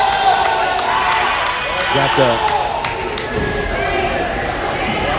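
A crowd cheers and claps in a gym during a high school girls' varsity volleyball match between the Skidmore-Tynan and Refugio Lady Cats. The steady, loud roar carries under a commentator's voice, with ball thumps and shoe squeaks mixed in.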